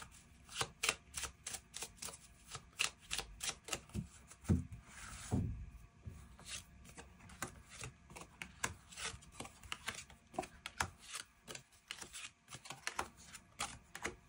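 Tarot cards are shuffled and drawn on a table, giving soft, quick flicks, slaps and taps in irregular clusters. The handling is close but quiet, with no talking.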